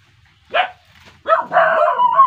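Dogs bark nearby: a single sharp bark, a pause, then a burst of overlapping, yelping barks from more than one dog.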